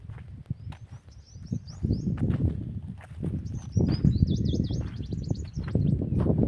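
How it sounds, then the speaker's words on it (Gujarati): Birds call and chirp from trees around a farm where peacocks roam. Rapid high twittering phrases come in two bursts over a rustling, shuffling background, fairly close. "આ જો બધા પંખીડા બોલે છે,"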